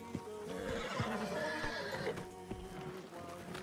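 A horse in a video game neighs with a long whinny while its hooves clip-clop underneath, set against a steady, dense game soundscape.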